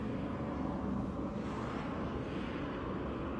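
A helicopter's low, steady drone rumbles in the distance with faint wind noise, holding a constant level without anyone speaking.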